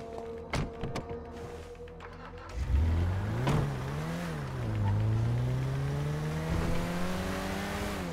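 An in-game car in Grand Theft Auto V starts up after a few thumps and drives off, its engine rising and falling steadily as it revs and accelerates, loud and continuous.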